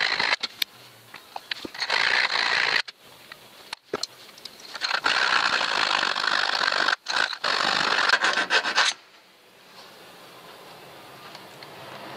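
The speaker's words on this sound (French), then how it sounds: "après je les ferai des trous carrés avec une lime" A hand file rasping square holes into plastic on a Land Rover Discovery restoration, with steady close back-and-forth scraping strokes in long runs, broken by short pauses, then fading to quiet.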